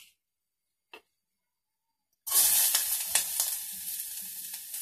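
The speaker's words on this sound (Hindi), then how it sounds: "इसमें प्याज डाल दिया हमने" Chopped onions hit hot refined oil for a dal soup, and after a couple of seconds of near silence a loud, close, crackling sizzle bursts out and continues steadily with bright spits and pops.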